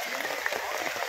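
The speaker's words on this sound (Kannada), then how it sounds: "ಚಪ್ಪಾಳೆ." Brief applause from an audience at a running race event, a short burst of scattered hand claps at moderate level with a faint crowd murmur underneath.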